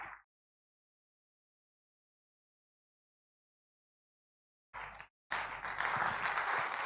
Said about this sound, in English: Please don't stop clapping until she comes up.